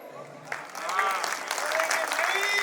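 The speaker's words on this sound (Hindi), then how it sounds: "आप यहां पे अपनी तालियां नहीं रोक पाएंगे" Audience at a Rajasthani patriotic poetry recital breaks into loud, sustained applause and clapping that swells after a quiet start and carries on steadily, with a few shouts rising from the crowd.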